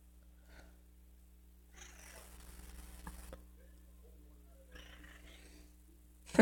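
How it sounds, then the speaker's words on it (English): A pet cat meows faintly in a quiet room, with a few soft, scattered cries and light breathy purring noises over a low background hum. "Don't know if you can hear my cat or not."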